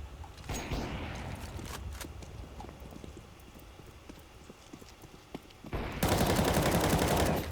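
Gunfire from a Counter-Strike match: a scatter of sharp game gunshots and clicks over a constant background hum, ending in a dense, loud burst of sustained firing.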